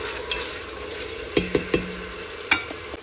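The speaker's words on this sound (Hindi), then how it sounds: "चिकन डालने के बाद 10 मिनट तक इसको फ्राई कर लें" Chicken fries over low heat in a pan with a soft continuous sizzle, and a few sharp spoon taps and scrapes stand out in a quick cluster, then once more, close by and without speech.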